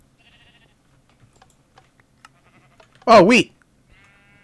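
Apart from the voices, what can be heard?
sheep bleating in the video game Minecraft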